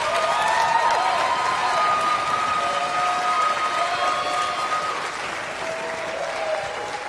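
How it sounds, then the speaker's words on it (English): A concert audience applauds steadily and loudly at a symphony performance, dense sustained clapping that fades slightly toward the end, with a few voices and whistles mixed in. "So please give this group another round of applause."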